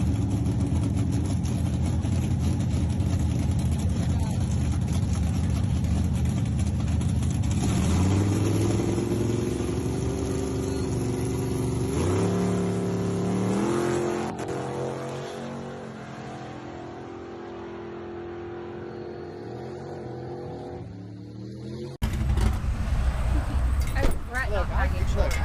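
Dodge truck with a turbocharged 4.8L LS V8 idling on the lawn, then revving in several rising bursts while people talk nearby, before settling and ending in a louder, rougher stretch.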